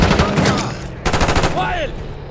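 Gunfire in Call of Duty Black Ops 6, with rapid automatic bursts in close, dense volleys, a brief gap, then another rattling burst followed by a sweeping whine, loud against game chatter.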